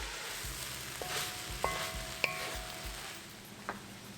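Mixed vegetables and potatoes frying in a kadai: a steady close sizzle with occasional stirring and a few light metallic clinks, no talking.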